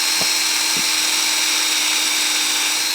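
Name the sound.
power drill boring a tap hole into a maple tree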